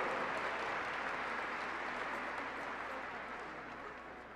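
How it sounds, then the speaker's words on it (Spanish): A congregation applauds during a diocesan Mass, with dense, even clapping that stays fairly distant and slowly fades over a few seconds, no voices on top. "Un fuerte aplauso, San José Sánchez del Río y San José."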